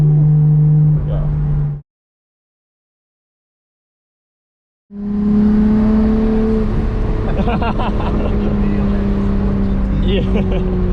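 A Nissan Skyline GT-R with stock R34 turbos and a Power FC tune, about 350 wheel horsepower, hums along a race track with a loud steady engine drone that cuts out briefly, then returns with shifting tones and some talk over it.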